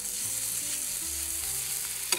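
Crushed garlic fries in a pan at a campsite while canard à l'orange is being cooked, a faint steady sizzle running throughout with a small clatter near the end.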